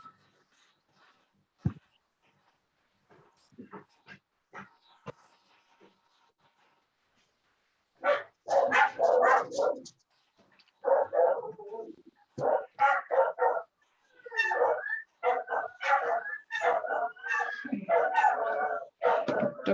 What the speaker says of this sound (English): Dogs again, mad again.